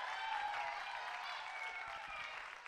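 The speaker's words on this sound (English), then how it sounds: "let's put a nice round of applause for our Magnum singers" Audience at a school choir's year-end performance clapping for the Magnum Singers, a steady wash of many hands at moderate distance, fairly quiet and gently fading toward the end.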